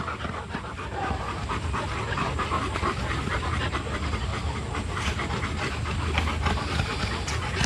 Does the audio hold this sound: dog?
yes